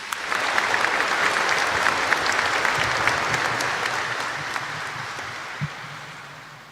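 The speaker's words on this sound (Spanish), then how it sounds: "Lo recibimos con un fuerte aplauso" A congregation at a live Catholic Mass in Caacupé, Paraguay, breaks into strong, sustained applause, a thick continuous roar of clapping that gradually fades, with a faint low murmur beneath.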